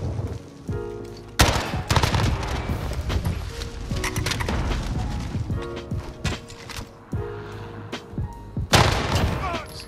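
Rapid video-game gunfire in a multiplayer shooter match, bursts of automatic shots and sharp single cracks spread across the whole stretch, loud and close, with a few heavier booming hits and some hoofbeat-like clatter in between.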